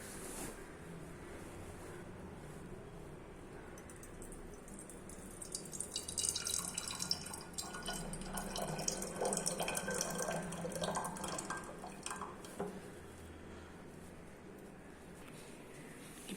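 Homemade detox water pours into a glass bottle, a soft trickling and splashing stream that swells in the middle and then eases off, faint and close with no talking.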